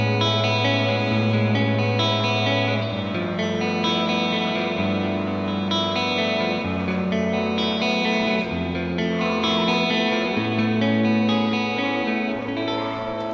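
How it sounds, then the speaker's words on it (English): Electric guitar chords ring out through a clean American-style amp, washed in lush reverb with soft repeating tape-delay trails, sustained and full throughout. "Using a clean American style amp with a whole reverb and a touch of tape delay"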